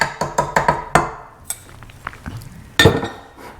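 One and a half cups of flour going into a mixing bowl for peanut butter jam cookies, marked by a quick run of sharp clinks and knocks of a measuring cup on the bowl, then a few scattered taps and a final louder clank.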